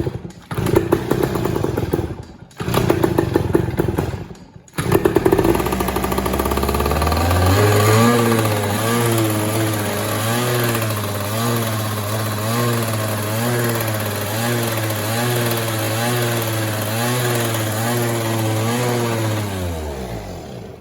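A Yamaha PW80 dirt bike engine fitted with an old carburetor runs roughly: after a few stuttering catches and gaps it settles into a loud, close, uneven idle with a steady wavering pulse, then winds down at the end.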